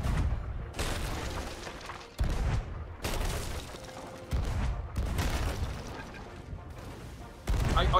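Ship cannons fire in the Sea of Thieves video game, a string of heavy booms landing every second or so, each a sudden loud blast followed by rumbling decay.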